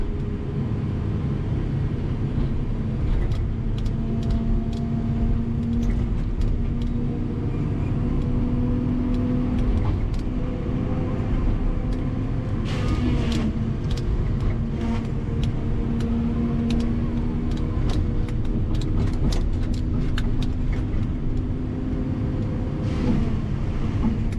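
A vehicle engine drones steadily while driving across swampy ground in a swamp logging video game, a continuous loud rumble with a low hum and faint clatter above it throughout.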